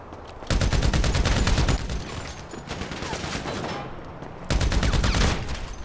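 Automatic machine gun fire in a GTA 5 deathmatch comes as loud rapid bursts of dense shots, a long volley at the start, quieter crackling in the middle and another heavy burst near the end.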